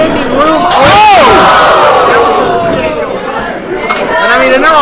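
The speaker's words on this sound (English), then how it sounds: "What a crowd here tonight for Final Course, Professor. We are sold out, standing room." A sold-out, standing-room wrestling crowd roaring and yelling loudly, with rising and falling cheers and shouts swelling around the ring.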